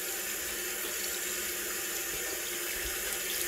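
Tap water runs steadily into a bathroom sink while hands are rubbed together under the stream, a continuous close hiss with no talking.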